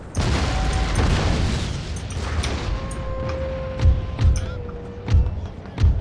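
Cannon fire in the Empire strategy game: repeated deep booms, four heavy thuds spaced about half a second apart toward the end, over a busy battlefield din with whistling tones.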